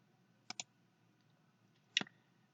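Two quick mouse clicks confirming OK in GIMP 2.10 while removing an image background, each a short sharp double tick, the first around half a second in and the second near two seconds, close and clear over quiet.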